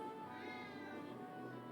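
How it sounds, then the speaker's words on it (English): Cat meowing in the Final Fantasy VII Remake video game, a steady, sustained mew that holds for nearly two seconds, close and moderately loud over a low game backdrop. "So, and here's the last cat."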